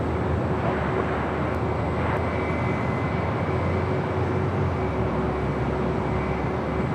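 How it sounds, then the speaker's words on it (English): A Delta Airlines Boeing 737-900ER arriving from Salt Lake City at LAX gives off a loud, steady jet roar that holds without letup throughout. "Delta Airlines flight 2657 coming in from Salt Lake City, a 737"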